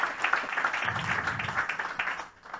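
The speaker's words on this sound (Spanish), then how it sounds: "el aplauso es para vosotros, para vosotras" A crowd applauds steadily at a political event in València, a dense wash of clapping that holds for a couple of seconds and then thins out.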